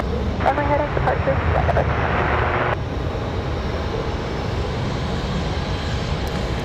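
An airplane arriving at Raleigh-Durham International Airport on a windy day, a broad steady jet roar filling the scene, with a voice talking over it early on.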